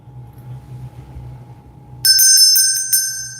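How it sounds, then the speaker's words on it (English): A small bell rings out bright and clear during a live Reiki energy healing session, struck once and left to shimmer, followed by a second lighter tap, over a faint low hum. "The sound of this bell."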